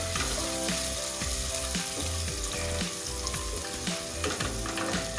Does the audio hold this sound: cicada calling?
no